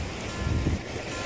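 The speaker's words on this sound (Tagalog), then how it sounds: "malakas ng tampisaw ng alon" Sea waves splash and wash close by in a brief burst of broadband surf noise, with wind rushing over it and no voices.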